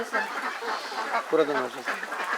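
Ducks quack on a Bangladeshi duck farm where older laying hens are kept, with one short, clear quacking call rising midway through steady nearby talk.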